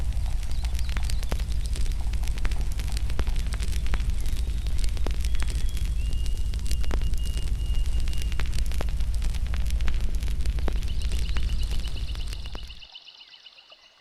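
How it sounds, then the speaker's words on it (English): A roaring mountainside wildfire rumbles loud and continuous with dense crackling pops throughout, then cuts off sharply near the end, leaving a faint thin tone. "The separate noises of the fire merged into a drum roll that seemed to shake the mountain."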